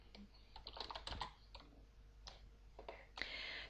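Keystrokes clatter on a computer keyboard in quick irregular bursts with short pauses between them, close and quiet, with no talking, as commands are typed into a text-based fantasy game.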